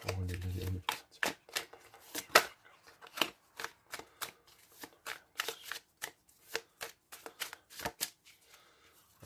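Tarot cards shuffled and drawn during a June love reading for Aries, heard as a long run of crisp, irregular riffles and flicks up close, with a brief low hum at the very start.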